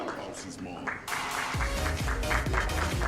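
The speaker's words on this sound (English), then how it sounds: "Let's continue the applause" Guests at a diplomatic gala night applaud in a hall, a continuous spread of clapping that grows louder about a second in, while a deep rhythmic music beat thumps underneath for the second half.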